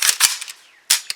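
A Kalashnikov-USA KR9 fires Federal aluminum-case ammunition outdoors at a range: two quick sharp reports, a pause, then a third shot with a short echo tail.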